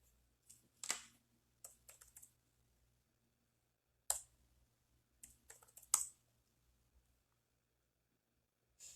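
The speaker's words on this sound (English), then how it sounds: "So right now what I'm doing is I am just going to Google and I'm typing in dove." Someone types a search on a computer keyboard, producing quiet, sparse bursts of key clicks separated by pauses, with no talking.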